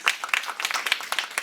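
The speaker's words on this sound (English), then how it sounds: "Let's give them a huge round of applause for their wonderful performance." An audience claps after a performance at a session for women entrepreneurs, a brief burst of distinct, irregular hand claps that sounds like a smallish group close by.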